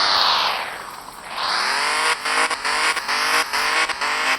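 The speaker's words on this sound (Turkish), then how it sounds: "Ya ara gaz verince ne oluyor?" A BMW engine revs hard: a rising whoosh of acceleration, then a sustained high-pitched roar broken by several quick throttle lifts and re-blips, loud and close with no talking.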